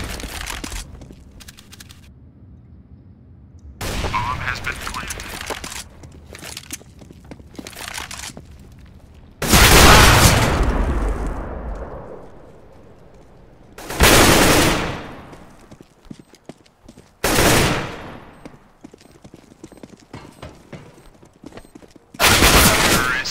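CS:GO match audio with sharp, loud bursts of gunfire and a flashbang blast, separated by quieter stretches of clicking and ambient game noise.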